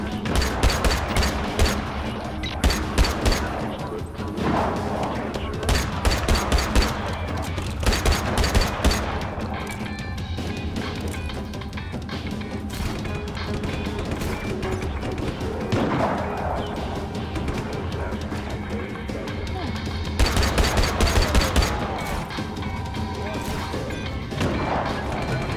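Repeated gunfire bursts and crashing impacts from the Just Cause 3 video game, with dense volleys clustered near the start and again toward the end over a constant loud backdrop of game noise and a voice.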